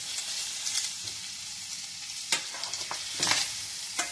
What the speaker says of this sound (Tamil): பன்னீரை இந்த மாதிரி பட்டர் போட்டு நல்லா வதக்கணுங்க.